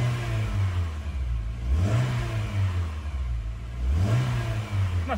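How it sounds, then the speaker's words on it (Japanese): A Honda Fit 1.5 RS engine with a six-speed manual revs up twice, each rise in pitch followed by a fall back toward idle, loud and close with no talking. "吹き上がりもこんな感じで特段問題ないかなという感じです"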